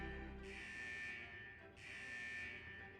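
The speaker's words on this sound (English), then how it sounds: "Is that the central alarm of the vault?" In the video game Wuthering Waves, a vault's central alarm sounds as two long, steady electronic buzzing pulses with a short gap between them. It plays faintly, with no voices over it.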